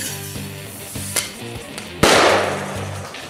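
Distraction grenade thrown and going off, a few sharp clicks and snaps over a low repeating hum, then one loud bang about halfway through that decays into a hissing, crackling burst.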